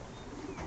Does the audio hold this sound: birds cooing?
yes